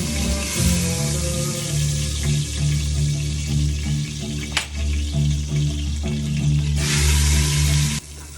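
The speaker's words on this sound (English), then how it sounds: "once you've browned all the pieces of pork, they don't have to be perfect." Pork pieces browning in an Instant Pot, a steady close sizzle with scraping and clinking of a utensil as pieces are flipped, the frying hiss swelling louder near the end before cutting off.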